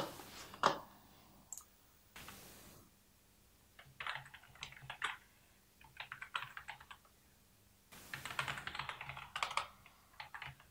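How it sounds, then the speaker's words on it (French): Quiet, close typing on a computer keyboard comes in bursts of rapid clicks separated by brief pauses, with a few louder key presses and no speech. "et si on arrêtait de parler et qu'on faisait un petit peu d'ASMR clavier?"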